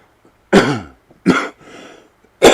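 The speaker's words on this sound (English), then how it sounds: "Sorry I keep coughing on y'all." Three sharp coughs from a sick person, close and loud, spaced about a second apart, with a short rasping breath between the second and third.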